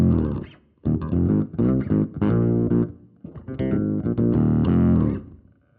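Bass guitar through a Fractal FM3/FM9/Axe-FX III pitch block set for a synth bass effect, partly mixed: phrases of thick, buzzy notes with short gaps between, loud and alone.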